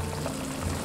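Water pours into a pot of braised lamb during cooking, a steady close gush that fills the whole short moment with no talk.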